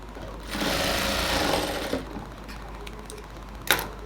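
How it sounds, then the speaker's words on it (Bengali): Sewing machine stitching an elastic joint on a ladies' pant, running in a steady loud burst for about a second and a half, then a few fainter short clicks and one sharp tap near the end. "আমি 3টা সেলাই দিয়ে ইলাস্টিকটা জয়েন করি অলওয়েজ।"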